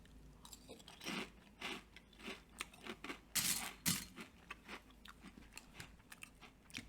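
Someone chews a spoonful of dry Golden Grahams cereal, close and crunchy, with repeated bites and grinding crunches in an uneven rhythm that peaks midway, with no talking.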